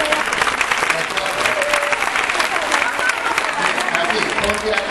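Audience at a Día de La Rioja community event in Siete Infantes gives a steady round of applause for a chosen woman representative, even, continuous clapping from a nearby crowd at a constant level with no voices standing out.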